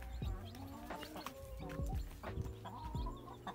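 A busy flock of chickens clucking and peeping close by, with overlapping calls and thin high chirps of young chicks throughout.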